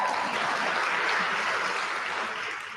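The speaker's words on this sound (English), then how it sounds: "yeah, you can clap, that's fine" An audience at a live Kathak thali dance performance claps steadily and densely, a continuous loud wash of applause that tapers slightly at the end.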